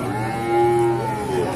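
A cow at the Ajibarang cattle market lets out one long, loud, steady moo, sliding slightly in pitch, over a constant low background hum.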